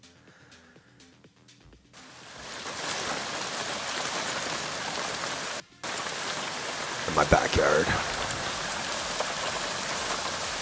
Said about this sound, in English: This is the hail today.